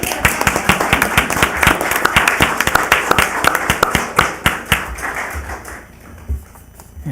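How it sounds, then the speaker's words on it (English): Audience applause at a Boulder City, Nevada city council meeting after a proclamation, dense crowd clapping near and loud, thinning toward the end with a few scattered claps. "Clap."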